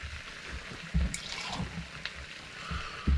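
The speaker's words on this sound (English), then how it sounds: "Just rinse the tin out." Water is swirled and trickled inside a tin during cooking of beef ribs, a faint, close sloshing with a few soft knocks against the metal.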